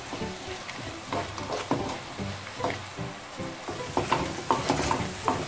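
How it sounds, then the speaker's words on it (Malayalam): Onions sautéing in a pan for a Kuttanadan-style beef roast, a steady soft sizzle broken by repeated scraping stirs of a spoon, fairly close and with no talking. "ഇനി ഉള്ളിയൊക്കെ സോഫ്റ്റ് ആയിട്ട് വരുന്നിടം വരെ നമുക്ക് നല്ലപോലെ ഒന്ന് വഴറ്റിയെടുക്കാം."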